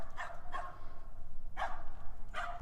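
Dogs bark in several separate bursts, a pair of quick barks followed by two more spaced out, moderately close over a low steady background hum.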